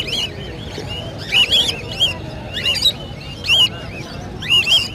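Lutino ringneck parakeets at a crowded bird market let out repeated shrill, close squawks in bursts, with steady market hubbub beneath.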